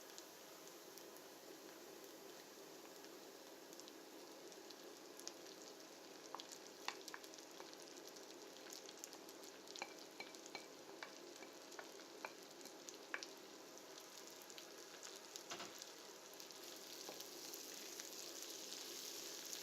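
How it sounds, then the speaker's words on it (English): Onions and leek sautéing in a pan over medium heat for a vegan mushroom pie filling, a steady soft sizzle with occasional faint stirring clicks, fairly quiet and continuous with no talking. "So when the onions softened up, you will add your leek inside and repeat the process."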